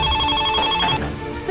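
A telephone rings in an office setting, a bright repeating electronic trill heard close and loud for a moment before it cuts off.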